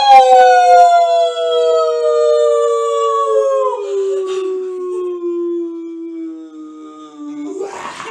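Human voices imitating a wolf howl during a Little Red Riding Hood storytelling session, a long sustained loud "woo" that slowly glides downward in pitch, with a short noisy burst at the end.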